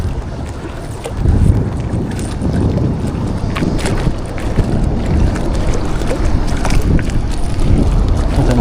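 Strong wind roars steadily across the microphone, a dense rumbling buffeting that rises slightly after the first second and continues without a break.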